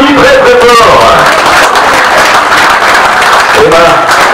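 Crowd applause at a cycling race prize ceremony in Lizio, loud and continuous under an announcer's amplified voice and a swelling cheer, with the speech dominating over the clapping.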